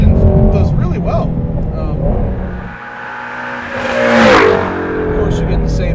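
A Ford Shelby GT350 base street car's engine revs and accelerates, rising to a loud sweep around the middle, with someone talking over it for much of the time.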